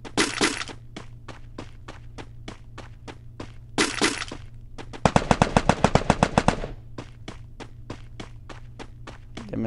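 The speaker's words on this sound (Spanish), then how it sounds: "Ya me están disparando acá arriba." Free Fire battle royale gunfire fills the scene: scattered sharp single shots and quick footstep-like ticks, broken by a dense automatic burst in the middle, all moderately loud with no talking.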